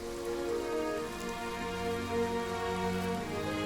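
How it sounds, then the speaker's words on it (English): Heavy rain pours steadily and without a break, a dense, continuous hiss of drops drumming on surfaces that stays loud and even from start to finish. "It's been raining for 7 days. It hasn't let up, and is even getting heavier."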